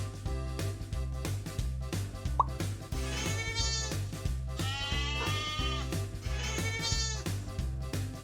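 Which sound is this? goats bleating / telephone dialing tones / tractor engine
goats bleating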